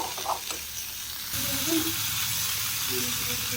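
Pointed gourd and tomato sizzle steadily in a pan for a vegetarian curry, a continuous close frying hiss that grows louder partway through, with faint stirring.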